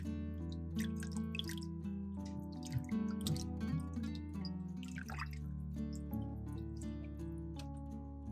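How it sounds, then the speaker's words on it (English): Water splashing and dripping in a basin while washing pork belly, irregular sloshes and drips over a constant background hum. "Then, wash the pork belly."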